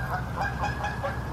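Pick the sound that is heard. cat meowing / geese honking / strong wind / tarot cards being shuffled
geese honking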